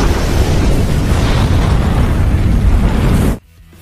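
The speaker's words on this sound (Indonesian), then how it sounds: "tempat tersebut akhirnya meledak." A loud, sustained explosion from a film rumbles and roars for about three seconds, then cuts off abruptly into near silence.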